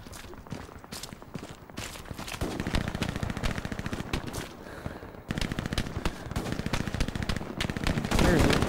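MG42 machine gun fire in a Stalingrad World War II video game, long rapid bursts that rattle densely and loudly, with a brief pause midway and heavier fire toward the end.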